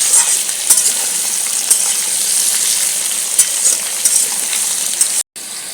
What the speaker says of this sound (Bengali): আলু পেঁয়াজ আর পেঁপেটা ভাজা ভাজা হয়ে গেছে